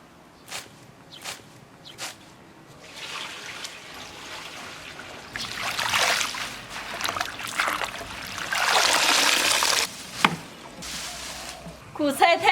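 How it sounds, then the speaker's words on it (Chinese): Bitter greens being handled and washed in water, with soft splashing and trickling that swells into louder sloshing midway, plus occasional knocks and some talk. "现在捡的往进洗一下"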